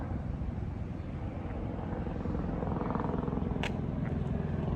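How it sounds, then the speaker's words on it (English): A helicopter flying overhead, its rotor chop a steady low pulsing that swells slightly toward the end, distant but clear outdoors with no talking. "look, they even send a helicopter to spy on me"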